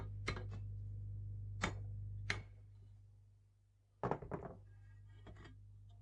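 A 48 mm pin is knocked into place with a few sharp, close metallic taps, then a quick cluster of harder strikes and a couple of lighter knocks over a low steady hum.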